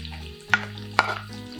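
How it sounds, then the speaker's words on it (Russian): Onion and carrot fry together in a pan, a close steady sizzle broken by two sharp stirring scrapes. "Перемешаю и обжарю овощи вместе буквально еще 2-3 минутки."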